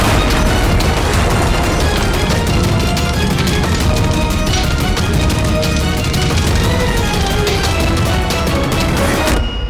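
Car bomb blast in a TV crime drama, a loud, dense rumble of booming and crackling bursts that runs without a break for nearly ten seconds, close and overpowering.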